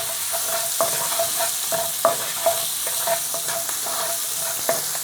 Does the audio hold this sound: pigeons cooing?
no